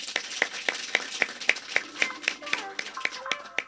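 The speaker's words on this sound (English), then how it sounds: "You can give yourselves a round of applause." Pupils giving themselves a round of applause: sharp, evenly spaced claps that sound like one or a few people, close and distinct, with a faint voice and light tapping in the background.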